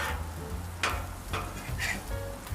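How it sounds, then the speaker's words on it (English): Onions and mushrooms sizzling on a Camp Chef griddle, a close, steady frying hiss broken by a few sharp scraping stirs. "Add the onions with the mushrooms here."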